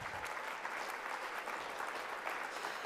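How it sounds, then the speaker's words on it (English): Steady applause from an audience at a youth citizenship awards ceremony, honoring friends of the honorees as they stand, dense and even clapping throughout with no break. "Please provide a round of applause to the friends standing."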